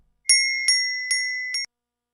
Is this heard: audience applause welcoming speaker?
no